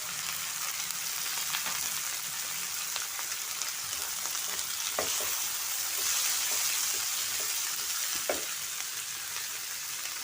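Shredded cabbage frying on a flat tawa for street-style tawa pulao, a steady broadband sizzle with occasional clicks of a spatula scraping the griddle, no voices.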